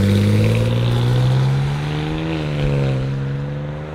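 A car revs hard and pulls away from a cars and coffee meet in Roxboro, its loud engine note holding steady and close throughout with a slight rise and dip near the end.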